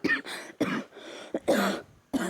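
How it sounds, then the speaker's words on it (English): A trekker on the Everest Base Camp route between Ringmu and Nunthala gives a series of harsh, raspy coughs, about five bursts in quick succession with short gaps, close and dry, with a sore-throated quality. "My cough is worse."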